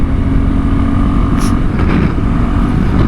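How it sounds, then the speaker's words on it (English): A KTM Adventure 390 motorcycle with a cable-operated accelerator and a fueling issue runs on the road, its engine note steady and close, mixed with wind rush and someone talking. "There's some issue between the fueling of this motorcycle."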